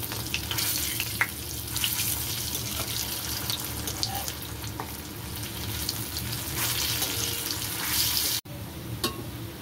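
Kofta balls fry in oil in a wok with a dense, continuous sizzle, close and fairly loud, with scattered pops and scraping as they are turned, then a brief sharp cut near the end.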